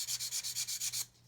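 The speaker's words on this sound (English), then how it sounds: "So I'm going to take my larger sanding stick" A sanding stick rubs a plastic part of an Airfix 1/32 Humber armoured car scale model in about nine quick, close back-and-forth strokes, then stops.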